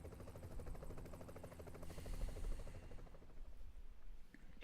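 A helicopter in The Division 2 gives a steady rotor drone with rapid chopping blade pulses, moderately loud and continuous, with no voices over it.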